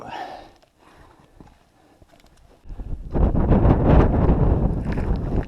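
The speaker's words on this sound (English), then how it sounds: "Getting windy up here, not a problem though." Wind gusts roar loudly across the microphone after a quieter stretch, a heavy rumbling buffeting that builds and holds, near the top of Katahdin's Cathedral Trail.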